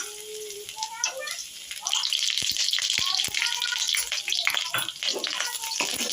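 Finely chopped garlic fries lightly in a pan for Chinese gravy noodles, giving off a steady close sizzle with crackling pops, while a voice speaks at the start.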